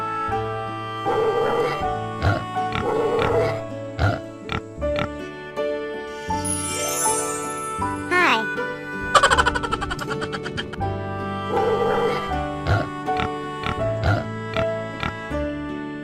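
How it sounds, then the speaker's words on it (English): Farm pig grunting and oinking in several short bursts over a cheerful children's music track, with a brief spoken greeting. "P-I-G, pig."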